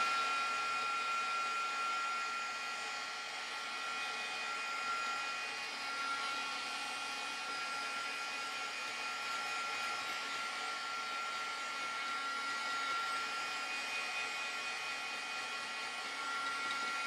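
Handheld dryer blowing on a craft project to dry it until it is no longer sticky, a constant close whooshing whine with a steady tone throughout, alone without talk.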